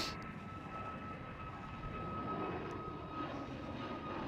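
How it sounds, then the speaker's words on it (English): A Ryanair Boeing 737 jet passes at an airport, its engines giving a low, distant, steady roar with a faint tonal whine held throughout. "And that's Ryanair"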